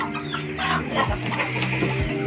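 Chickens cluck steadily over a busy farmyard background, with a couple of low thumps and some faint bird calls mixed in.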